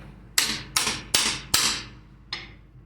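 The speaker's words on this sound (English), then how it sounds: "Just get a hammer. What you do is tap that." A hammer taps an axe head held in a vise, making five sharp metallic knocks at an uneven pace, with the last one lighter, heard close up and alone.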